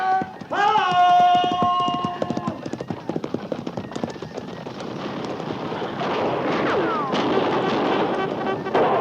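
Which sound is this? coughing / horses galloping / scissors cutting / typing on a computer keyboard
horses galloping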